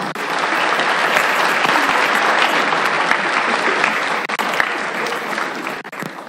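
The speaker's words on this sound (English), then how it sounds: "So let's give them a round of applause, please." A community choir concert audience breaks into loud, sustained applause, a thick continuous roar of clapping close by with no talk over it.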